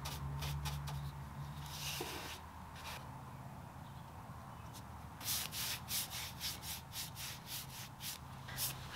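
A paintbrush drags soft rubbing strokes across an 1980s oak dresser, with long smooth passes followed by a quicker run of short brushing strokes, quiet and close with no voices.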